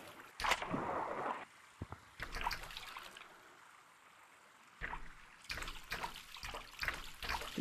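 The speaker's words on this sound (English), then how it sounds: "I think you have to keep paddling to stay above water." Splashy paddling through water in the video game Gorilla Tag, in irregular bursts of sloshing and swishing strokes, with a quieter gap in the middle before a run of quicker strokes.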